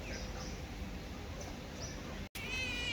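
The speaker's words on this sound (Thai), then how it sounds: "เดี๋ยวแมวลง" A cat meows a few times, faint and brief against steady outdoor background noise, with a short break near the end and a thin whining tone afterward.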